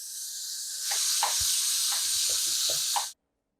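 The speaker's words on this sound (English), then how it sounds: "So we're going to let that steam out." An Instant Pot vents its pressure as a loud, steady hiss of steam that swells after a moment, carries a few faint clicks and rattles, and then cuts off abruptly.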